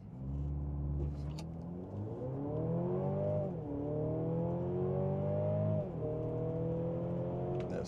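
A 2024 Mercedes-Benz GLC 300 Coupe accelerates hard from a standstill toward 60, its engine note climbing steadily with distinct drops at each upshift. The run is heard clearly from inside, with no talk.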